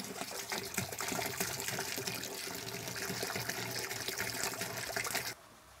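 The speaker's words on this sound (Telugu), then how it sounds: "కొబ్బరి బోండా నీళ్ళు 3 లీటర్లు పోసామండి." Three litres of coconut water pouring steadily into a container while preparing panchagavya, a continuous close gushing splash lasting several seconds before stopping abruptly.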